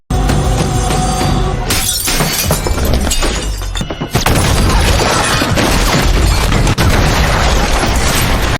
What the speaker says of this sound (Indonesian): Akibat ledakan barusan